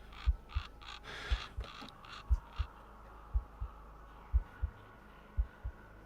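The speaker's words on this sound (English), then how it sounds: "you hear that heartbeat" A deep, muffled heartbeat thumps in steady lub-dub pairs, about one pair per second, low and resonant over a faint hum during a tabletop fantasy game session.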